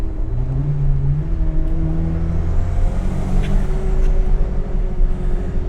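Turbocharged 1974 BMW 2002 carrying a hot-rodded M3 engine pulls hard with a steady loud engine drone, its pitch climbing as it accelerates, plus a faint turbo whistle rising over it.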